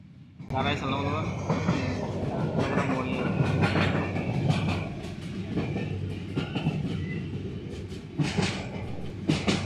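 A train rumbles steadily along the tracks with a rhythmic clatter on a Dhaka to Chittagong journey, while people talk over the noise.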